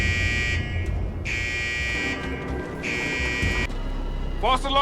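A prison fire alarm buzzes in long repeated pulses with short gaps over background noise, and a voice comes in at the end.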